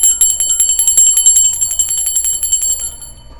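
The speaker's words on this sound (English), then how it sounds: "I'm going to ring the bell for my spirit guides, guardian angels, and ancestors." A small handheld bell rung rapidly and continuously for spirit guides, bright metallic trills repeating for about three seconds, close and loud before trailing off.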